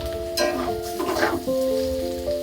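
Mixed vegetables sizzle in a pan as spices and tomato go in, a close, steady frying hiss with a few brief scraping stirs over a tonal background.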